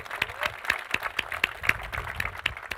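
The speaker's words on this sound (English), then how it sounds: "we can give Fred a round of applause on that, sure." An audience at a student Q&A at the College of Charleston applauds for Fred with scattered, moderately loud hand claps in a loose, uneven rhythm. The clapping lasts nearly three seconds without letting up.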